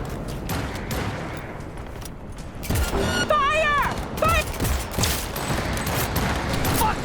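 Gunfire in the video game Cyberpunk 2077, dense bursts of rapid shots and impacts crackling loudly throughout, mixed with game sound effects and a brief voice.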